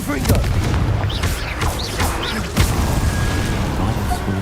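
A Confringo blasting spell in Hogwarts Legacy bursts amid a flurry of combat spell impacts, a run of loud booms and crashes close up, with a voice speaking over the fighting.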